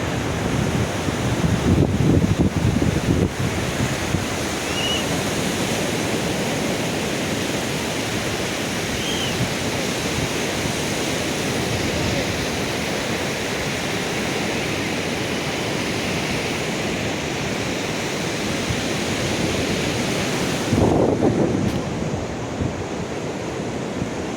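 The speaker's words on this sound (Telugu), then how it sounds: "ఇది ఇప్పుడు మనం చూసిన సూర్యలంక బీచ్ దృశ్యం" Waves and wind at Suryalanka beach in Bapatla form a loud, steady wash of surf with constant wind noise buffeting the microphone, and no voices.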